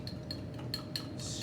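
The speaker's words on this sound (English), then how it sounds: "Stir." A utensil stirs a solution in a glass vessel in a chemistry lab, giving several light, evenly spaced clinks against the glass, close and quiet, followed by a brief soft rustle.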